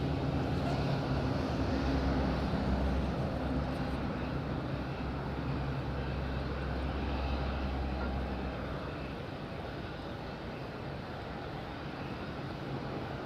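An EasyJet jet sits on pushback at Madeira airport, a steady broad engine roar from a moderate distance that slowly eases in loudness, with no voices over it.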